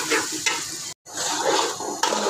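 Lentils for khichuri being sautéed in a pot, a close sizzle with stirring scrapes and a spoon clink, cut by a brief silent gap midway.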